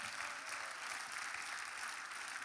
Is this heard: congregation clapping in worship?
yes